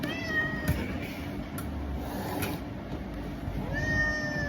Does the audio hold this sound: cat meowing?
yes